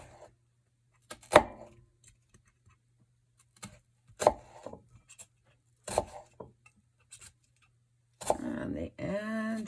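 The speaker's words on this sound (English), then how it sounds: "going to take my knife, just the tip of my knife, and I'm going to slice it" The tip of a knife slices into an intact onion on a cutting board in a few sharp, separate cuts against near silence, followed by a voice speaking at the end.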